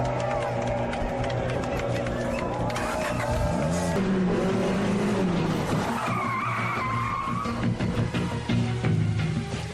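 Race cars speeding and skidding during a race, engines roaring loudly with screeching tires and sweeping pass-bys, continuous and close, with a crowd faintly underneath and voices briefly mixed in.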